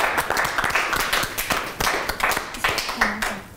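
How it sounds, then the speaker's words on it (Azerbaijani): An audience claps for the winning team at the end of a comedy show, with steady, dense applause throughout and a voice briefly audible over it. "Gəlin onları alqışlayaq."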